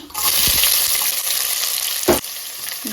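Sliced onions and chana dal fry in a hot mustard-seed tempering for a traditional Tulunadu snack, giving a steady loud sizzle with a brief louder burst and scrape near the end, no voices.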